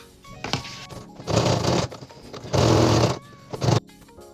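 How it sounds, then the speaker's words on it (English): A sewing machine top stitching rows of pockets on dungarees made from an old Snap-On jacket runs in several short bursts of whirring, with pauses between each run and faint clicks during the gaps. "I'm going to top stitch it and like do a few rows"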